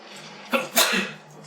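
A single sharp sneeze, a quick inhale followed by a loud burst of breath, close by against a quiet background.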